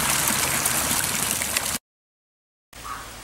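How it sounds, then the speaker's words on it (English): Water runs steadily in a fountain built of cobblestone, a broad continuous splashing that cuts out abruptly partway through and returns more quietly. "Here we're at a water fountain."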